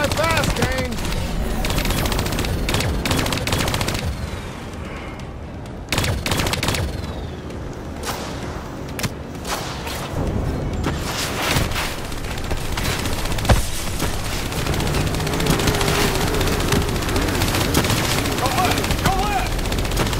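Turret gunfire from Call of Duty: Black Ops III rattles in dense, sustained bursts for about twenty seconds, mixed with explosions and vehicle noise, with voices talking over parts of it.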